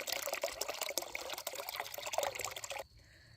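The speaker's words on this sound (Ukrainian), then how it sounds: "І ось так набирається вода." Water pours steadily from a hose into a 50-litre barrel with a dense splashing rush, then cuts off abruptly near the end.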